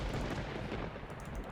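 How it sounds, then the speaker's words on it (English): Fireworks launched near a house in the survival game DayZ Origins: a dense run of sharp booming blasts that is loud and rough and runs through the whole moment without a pause. "Someone's launching fireworks near my house."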